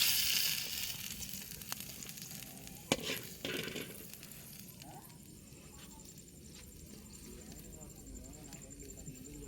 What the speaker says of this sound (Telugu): కలుపు చేసుకున్న కూరని తిరగమాతలో పోసేస్తున్నా